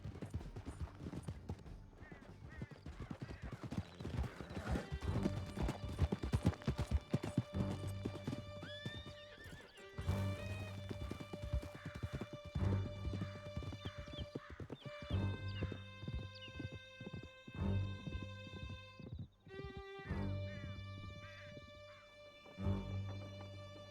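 A horse gallops in Red Dead Redemption 2, steady clip-clop of hooves with a whinny and neighing, backed by dense game music and sound effects, loud and close throughout.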